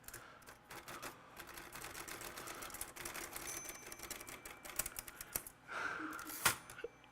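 A restored manual typewriter with new ribbons clacks through a quick run of keystrokes, its crisp strikes faint and close, ending in a sharper carriage sound near the end.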